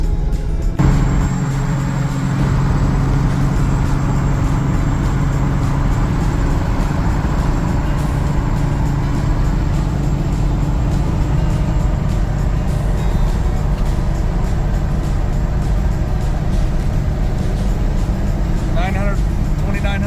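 A car without overdrive cruises at 65 mph, its engine holding steady around 3,000 RPM on a scenic highway; a constant loud road and engine drone runs throughout, with someone talking over it.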